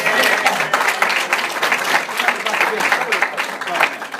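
Audience applause at a science seminar, a steady wash of many hands clapping at close range that holds without a break for several seconds.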